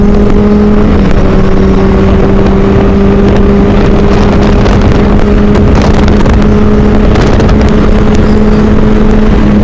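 A big touring motorcycle cruising on the road below full throttle, its engine a loud, steady drone with sustained harmonic tones buried in heavy wind rush at the microphone throughout.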